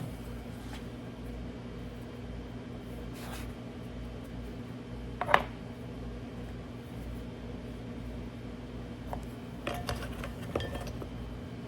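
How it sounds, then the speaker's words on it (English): A metal baking pan is pulled and handled in a kitchen while biscuits are being made, giving a few scattered clanks and one sharper knock over a low steady hum, with no talking. "Let me pull my pan right there."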